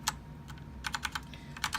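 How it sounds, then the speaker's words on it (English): Typing on a LEOBOG K23 tenkeyless mechanical keyboard with red switches, a quick run of crisp clacky keystrokes, close and fairly quiet, in uneven short bursts with no talking. "this is a red mechanical switch. Definitely not MX red."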